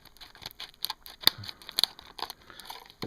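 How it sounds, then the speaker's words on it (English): Tactical scissors snip and pry at stiff plastic clamshell packaging, a series of sharp, irregular clicks, cracks and crinkles up close, with no voices. "These clamshell packaging, boy, they're tough to get into. Let's see here. Tactical scissors will get it every time."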